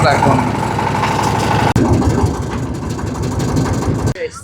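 A motor boat engine runs steadily with a low throbbing drone while approaching a river char, continuous and close, with a person talking over it.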